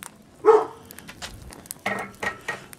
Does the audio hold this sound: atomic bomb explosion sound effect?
no